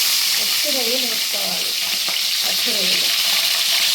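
Raw prawns go into hot frying masala, setting off a loud, dense, continuous sizzle up close, with faint voices murmuring underneath.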